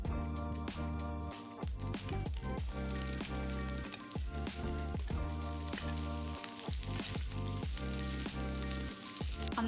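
Small meat pieces, little meatballs, fry in plenty of butter, giving a steady, loud sizzle. Background music plays throughout and masks part of the sound.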